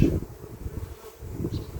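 Honey bees buzz with a low, continuous hum during a spring inspection and expansion of a hive, close to the listener and fairly steady, with a faint rustle of frames.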